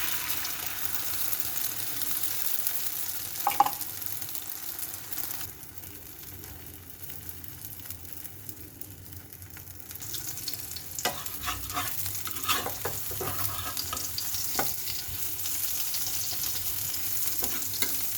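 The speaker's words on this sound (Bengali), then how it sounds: "রুটি ভাজা হয়ে গেল, ডিমটা ভেজে নিব" An egg fries in a pan on low heat, sizzling steadily at moderate volume with a quieter lull midway and scattered clicks and scrapes of utensils.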